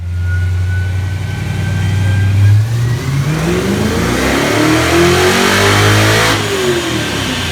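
A carbureted Ford LTD engine revs on a chassis dyno, a loud, steady mid-range roar that climbs in pitch through a long pull with no talk over it.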